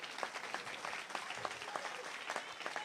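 A church congregation applauding, a moderately quiet patter of many hands clapping in an uneven, continuous stream.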